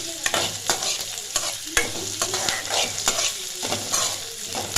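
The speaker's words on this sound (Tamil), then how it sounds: "எண்ணெய் வதங்கினதுக்கு வெங்காயம் நல்லா வதங்கட்டும்." Onions sautéing in hot oil in a pan for a potato masala fry, a steady sizzle broken by repeated scraping stirs with a spoon, close and alone.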